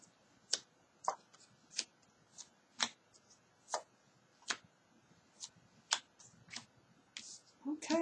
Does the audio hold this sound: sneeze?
no